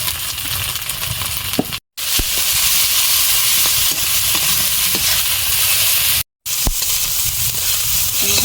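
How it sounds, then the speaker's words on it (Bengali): Spice masala with turmeric and salt fries in oil for chicken, giving a loud, even close-up sizzle and hiss with faint stirring scrapes, cut by two brief silences. "মশলাটা তেল ছেড়ে দিয়েছে, ভাজা হয়ে গেছে,"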